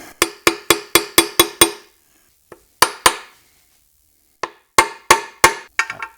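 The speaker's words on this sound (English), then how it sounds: "I'll find a socket roughly that size that we can tap that down" A socket tapped against a Harley primary seal to seat it gives a quick run of about seven crisp metallic taps. After a pause come a few more scattered taps, all close and clear.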